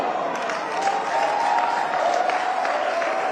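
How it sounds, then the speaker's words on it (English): A large audience at a disability-rights town hall in Nigeria applauds steadily, a continuous wash of clapping with faint crowd murmur, fairly loud and even throughout. "your applause should be louder than this"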